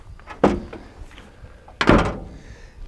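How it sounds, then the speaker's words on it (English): Two metal-on-metal slams of a car door with no seals fitted on an XH Falcon Surferoo ute, each a loud tinny bang with a short ringing tail, spaced about a second and a half apart. "it sounds a bit tinny on there because there's no seals in the door, then it's just metal on metal"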